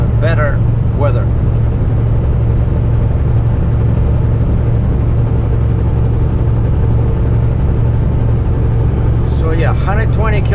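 A car cruises on the highway out of Halifax, Nova Scotia, toward New Brunswick at about 60 mph, giving a loud, steady low road and engine rumble, with brief voices at the start and end.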